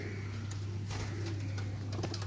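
A white pigeon cooing softly among a group of pigeons, a few faint low coos over a steady background hum, with no talk.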